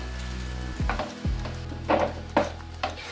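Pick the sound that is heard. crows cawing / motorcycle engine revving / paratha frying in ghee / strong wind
paratha frying in ghee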